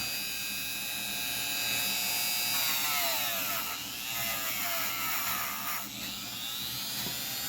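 A power tool whines steadily while cleaning the threads of a nut from a battery-operated clock, its high pitch rising and sliding through several shifts, close and loud with no talking.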